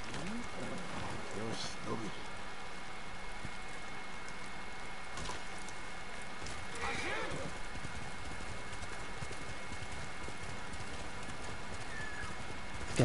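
Horse hooves clip-clop steadily in Ghost of Tsushima gameplay, a continuous rhythmic trot under ambient game sound with faint rain-like texture, occasional brighter sound effects around the middle.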